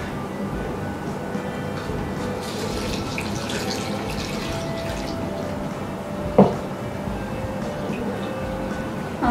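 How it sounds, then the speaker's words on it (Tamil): Flattened rice (aval) being rinsed in water in a home kitchen, a steady running, sloshing wash throughout at moderate level, with one brief clink partway and no talk. "இப்போ நாம் இதை வந்து வாஷ் பண்ண போதும்."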